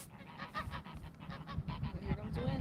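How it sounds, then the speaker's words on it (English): A goose honks repeatedly in a quick, uneven series, fairly close and loud, with soft outdoor noise underneath. "at least here comes a goose"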